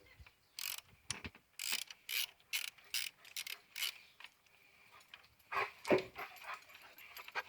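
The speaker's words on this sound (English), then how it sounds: "This is a pretty long bolt, but it doesn't take that long to come out." A ratchet wrench backs out a long bolt from the power steering pump of a 2000–2003 Mercury Sable. Quiet, quick clicking bursts repeat in an uneven rhythm, with a few clunks near the end.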